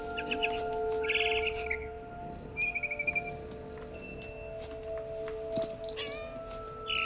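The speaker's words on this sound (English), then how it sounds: "Then I heard chirping outside my window. It was a barn swallow going back to her nest." Bright barn swallow chirps and short trills come in scattered bursts over a quiet background with a steady low hum, in the video game What Remains of Edith Finch. No one speaks.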